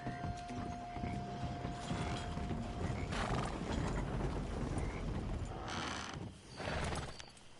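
Horse hooves clip-clop in the Red Dead video game, rhythmic and moderately close, layered over a busy mix of mechanical clanking and rattling ambience.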